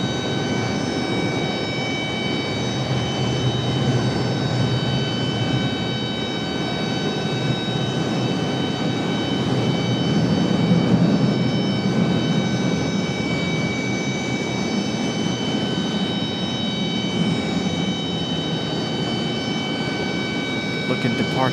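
An Embraer E175 jet airliner taxis and departs at Raleigh-Durham International Airport, a steady distant engine roar with high whining tones that swells slightly midway and stays continuous throughout, with no one speaking.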